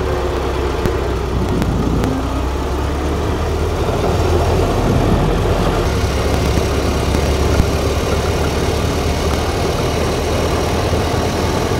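A Ford Model T's engine runs steadily as the car pulls away, a constant low mechanical rumble with a throaty idle character, loud and close with no talking.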